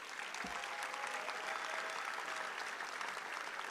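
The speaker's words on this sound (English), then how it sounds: "I need to hear a very loud applause for the decoration team" Crowd applause for the decoration team at a Chenda Melam arangettam event, a steady wash of clapping from a large audience, fairly distant and even throughout.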